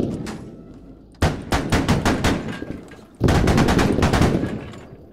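Video game machine gun fire rattles in two long rapid bursts, loud and close, each a dense string of sharp shots with a brief pause between.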